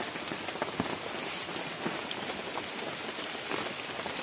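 Steady rain falls through a quiet village, Kampung Batu Saheng, in the late afternoon, a dense broadband hiss with scattered brighter drop taps, constant and fairly close throughout.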